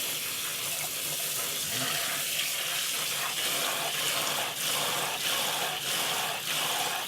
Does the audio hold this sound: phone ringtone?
no